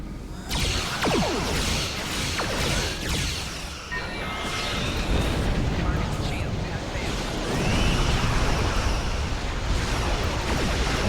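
Starship cannons fire in the Star Trek Online space combat game, a dense roar of energy blasts, whooshes and explosive bursts that stays loud and continuous throughout.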